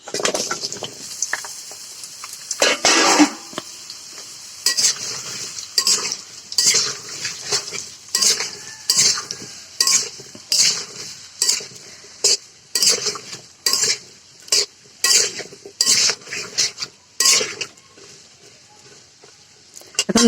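Cut mango pieces fry in hot oil in a pan for pickle, a constant sizzle under regular clinks and scrapes of a spatula stirring against the metal, close up, with no talking.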